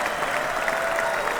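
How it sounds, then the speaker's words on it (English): A round of applause follows a sports talk segment about baseball season approaching, heard as a steady, dense wash of clapping lasting throughout, moderately loud with no pauses. "a nice round of applause, because baseball is right around the horizon."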